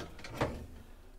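A short wooden slide and knock as a large storage drawer in a WildAx Aurora camper van kitchen is pulled open, close by in a quiet room.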